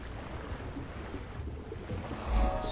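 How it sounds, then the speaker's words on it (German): A gentle waterfall in the video game Guild Wars 2 gives a soft, steady rushing wash of water, quiet and continuous, with no talk over it. "Das ist wirklich so ein sanftes Flüstern. Gar nicht so ein Tosen, wie man das vom Wasserfall so kennt."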